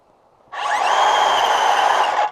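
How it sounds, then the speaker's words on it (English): A Power Planter auger drills into compacted garden soil, its motor kicking on abruptly for about two seconds of loud, steady whirring with a gritty bite before cutting out. "I'm going to demonstrate with my Power Planter Auger now."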